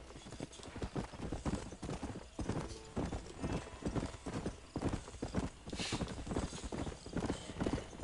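Horse hooves clip-clopping in Red Dead Redemption, a steady rapid galloping rhythm of repeated hoof strikes with occasional whinnies, fairly faint under game ambience.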